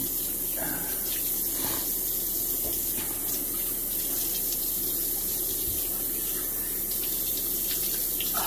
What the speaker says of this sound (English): Now rinse off your face really good and your forehead.